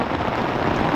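Steady rain falls over a construction site on a wet September day, making a dense, even hiss of drops hitting surfaces with no pauses and no voices.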